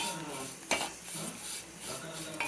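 A spoon scraping and stirring moringa leaf curry in a metal pan, soft repeated scrapes with a couple of sharper clinks, close and fairly quiet.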